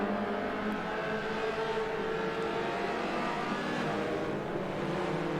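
Race cars lapping a track in the Forza racing game, a steady continuous engine drone with no distinct pass-bys, loud and unbroken throughout.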